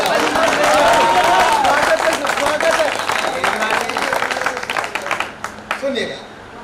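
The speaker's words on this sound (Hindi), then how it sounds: "आप आज्ञा दे तो एक बार तालियां बजा दीजिए" Audience applause at a Haryanvi comedy show, a loud burst of many hands clapping that is strongest at the start and thins into scattered claps before fading, with crowd voices and a speaker mixed in.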